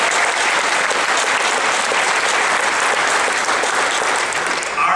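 Steady applause from an audience at a graduation service fills the whole stretch, dense and unbroken, with a few voices mixed into the clapping.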